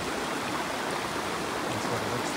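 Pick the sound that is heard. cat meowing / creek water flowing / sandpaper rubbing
creek water flowing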